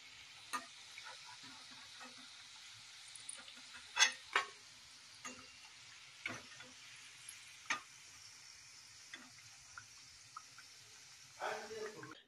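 Sweet puris deep-frying in hot oil give a faint, steady sizzle close by, broken by scattered clinks and taps of a utensil against the pan.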